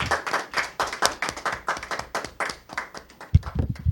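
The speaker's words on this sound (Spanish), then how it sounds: "lo despedimos con un fuerte aplauso" Applause from a small group at the close of a Catholic gospel programme: a brisk, dense run of handclaps, close and steady, with a few louder thumps near the end and no talk.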